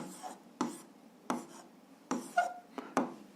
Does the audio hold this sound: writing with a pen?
yes